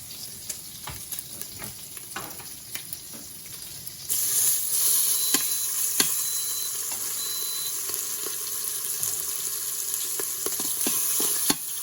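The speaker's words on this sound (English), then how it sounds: "So we're gonna render off the fat for the bacon right now." Bacon sizzling in oil in a pan as its fat renders, a steady close crackling hiss that grows louder partway through, with occasional stirring scrapes and no talking.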